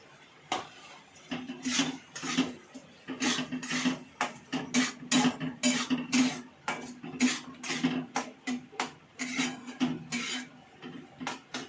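Boiled peas are tipped into roasted masala and stirred in a pan, a quick run of rhythmic metallic scrapes and clanks of a spoon against the pan, close and clear with no talk.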